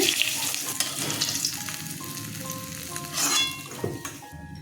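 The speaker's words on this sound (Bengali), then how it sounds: "এই তেলেই ফোড়ন দিয়ে দিচ্ছি কাঁচা লঙ্কা মেথি কালো জিরে" Green chillies, fenugreek seeds and black cumin sizzle as they hit hot oil in a pan, a steady close frying hiss with light stirring and occasional clinks of metal utensils.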